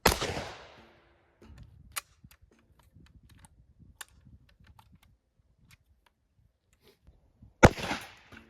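Shotgun firing number 4 shot at body armor: two loud sharp blasts, one at the start and another near the end, separated by a long quiet stretch of faint clicks and handling sounds.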